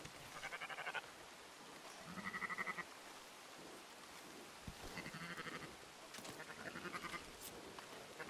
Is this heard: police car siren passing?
no